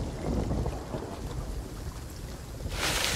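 Rain and a low thunder rumble roll across the open sea in the pirate game Sea of Thieves, a dense, steady roar of weather with a brighter wash of sound swelling near the end.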